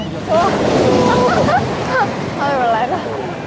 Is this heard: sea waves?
yes